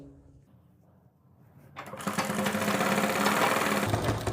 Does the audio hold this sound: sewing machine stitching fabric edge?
yes